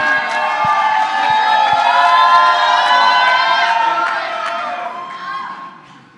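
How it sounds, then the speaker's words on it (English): A university crowd roars with cheers, whoops and shouts for a speaker from the Gambia. The sustained, dense wall of voices holds strong, then gradually fades toward the end. "Let's give a round of applause."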